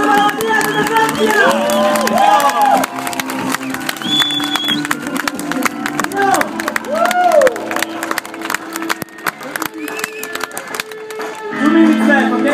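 A crowd at a BMX street event claps and cheers for a rider, with whoops and shouting over a steady roar of applause, and a voice calling out above it.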